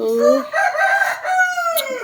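Chickens on a farm call with drawn-out, rising and falling crowing and clucking tones that run continuously and fairly loud for about two seconds, with no talk.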